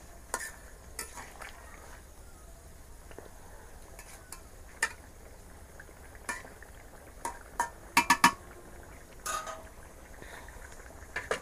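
Fish curry of koi fish with potato and eggplant is lightly stirred in a cooking pot, giving soft scraping and intermittent clinks of a spoon against the pot over a faint simmer, with a brief cluster of sharper taps near the end.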